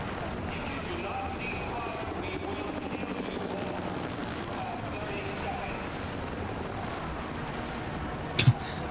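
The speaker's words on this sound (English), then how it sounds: "It sounds like a lot of screaming going on and then explosions and helicopters" Rise of the Tomb Raider video game combat: a helicopter's steady rotor drone fills the scene with rumbling background noise and a sharp impact near the end, with voices talking underneath.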